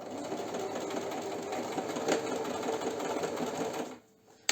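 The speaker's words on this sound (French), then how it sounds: "n'oubliez pas votre piqûre de maintien" A sewing machine stitches back and forth to secure a seam on a cushion cover, with a loud, steady mechanical whir that stops abruptly near the end, then a brief click.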